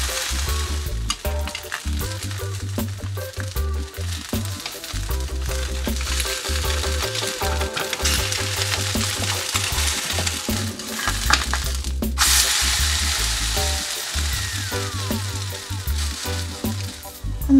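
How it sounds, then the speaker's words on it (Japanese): Potato pancakes frying over medium heat, a continuous crackling sizzle with a rhythmic low pulsing underneath and occasional faint clinks, steady and fairly loud, nobody speaking. "中火で焼いていきます"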